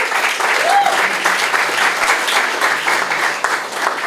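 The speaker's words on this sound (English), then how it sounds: "Let's give them a round of applause." A full house at a union memorial gathering for a longshore worker breaks into loud, sustained applause, a thick continuous wash of clapping close by that holds evenly and eases slightly near the end.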